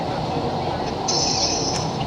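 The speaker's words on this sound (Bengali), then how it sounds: "আমরা এখন কিন্তু নদীর তলা দিয়ে যাচ্ছি মা গঙ্গার নিচ থেকে যাচ্ছি আমাদের ট্রেনটা যাচ্ছে মেট্রো যাচ্ছে" A Kolkata Metro train running through the tunnel under the Ganga river, a steady loud rumble of wheels and car noise with a brief high squeal, while people talk over it.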